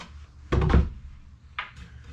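Heavy plywood drawer in a 2002 MCI bus conversion pantry, sliding and closing with a loud wooden thunk, followed by a softer knock a second later in a quiet room.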